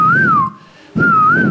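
A koel bird call imitated by whistling on a talent show: two loud, smooth wavering whistled notes, close and clear, separated by a brief pause.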